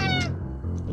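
A cat in the Friday the 13th puzzle video game lets out a short, clear meow, close and fairly loud, over a low background hum with a faint second cry near the end.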